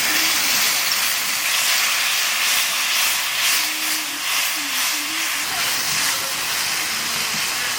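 Water splashed into spice paste of dried chilli powder and green chilli paste frying in a pan, giving a loud, steady hiss of steam and sizzling that carries through the whole stretch, with faint voices underneath.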